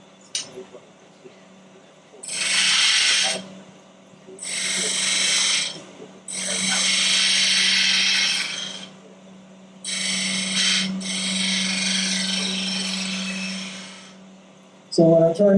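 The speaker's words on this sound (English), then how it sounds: "This is a spindle gouge, 9/16 spindle gouge." A 9/16 spindle gouge cuts a piece of wood spinning on a lathe in repeated long, hissing scraping passes, with short pauses between them over the steady hum of the lathe motor.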